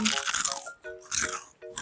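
Crispy batter-fried squid crunched between the teeth, three loud close bites with short crackling bursts separated by brief pauses, and a few tonal sounds mixed in.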